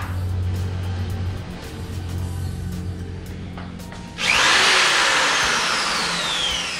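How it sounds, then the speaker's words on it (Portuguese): A power drill bores a hole into a wall, starting abruptly partway through and running loud and steady with a whining, broadband grind until the end, no talking. "Agora vamos lá furar o buraco na parede."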